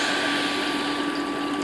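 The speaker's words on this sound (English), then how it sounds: "Just add water to your pan." Water poured into a cooking pan, a steady, even gushing and splashing stream that holds at a constant level, close by, with no voices.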